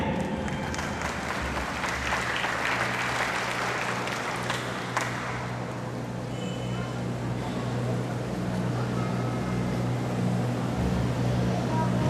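An audience at a maritime school recognition and pinning ceremony claps in a long, dense wash of applause that fills the hall and stays loud throughout, fading slightly midway.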